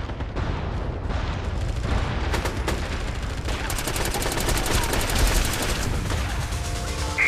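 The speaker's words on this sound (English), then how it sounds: "Incoming artillery." Gunfire and artillery in the multiplayer shooter MAG form a dense, continuous battle din, with rapid automatic fire and heavy booming blasts layered throughout.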